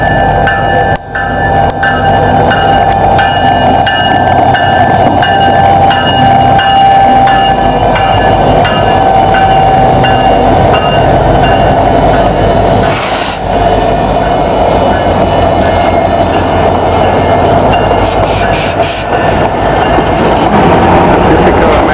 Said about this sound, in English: The Alaska Railroad, one of the last operating railroads in America, is approaching Denali Park